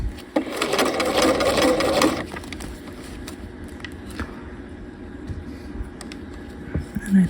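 A sewing machine runs in a steady close whir for about two seconds, stitching and backstitching a half-scale jacket seam, then stops, leaving soft handling noises and light background hum.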